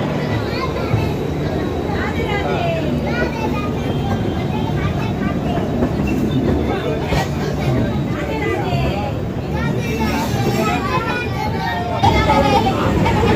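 Jagannath Express train pulling out of Shalimar station platform 1, a steady loud rumble of wheels and carriage noise with rattling throughout, heard from on board with faint voices mixed in.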